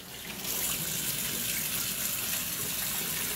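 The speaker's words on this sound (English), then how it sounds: "And now I have to wash my hands." Tap water runs steadily into a sink as hands are washed after handling raw pork chops, a loud, close, continuous splashing hiss that starts after a brief quieter moment and holds to the end.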